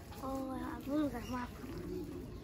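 Soft pigeon coos, a few rounded warbling calls close by, repeating at a relaxed pace over a low background hum.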